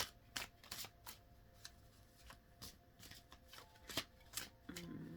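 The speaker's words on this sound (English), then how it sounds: "Now the tarot. Well, my self-care one. My self-care cards." A deck of self-care tarot cards is shuffled close up, producing a quiet series of crisp riffling snaps and soft slides in an irregular rhythm.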